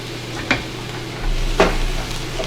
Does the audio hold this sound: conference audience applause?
no